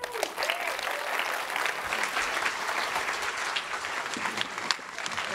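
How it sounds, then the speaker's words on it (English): Conference audience applauding a game developer after his talk on virtual reality design, a dense steady wash of clapping throughout, fairly close and unbroken. "Let's give him another round of applause"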